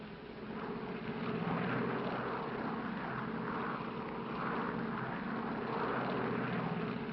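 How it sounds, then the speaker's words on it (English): An airliner taxis at Los Angeles airport, its engines giving a steady, loud broadband rumble and whine that holds constant throughout, with no voices over it. "Los Angeles Tower, this flight 649, ready for taxi instructions."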